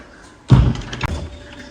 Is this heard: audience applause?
no